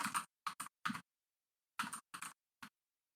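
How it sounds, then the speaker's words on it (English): Short clattering bursts of computer keyboard typing, a few quick clusters of keystrokes with pauses between, close and fairly loud in an otherwise quiet room. "give us some clacks on the keyboard, Andrew."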